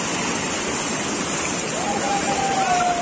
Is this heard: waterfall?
yes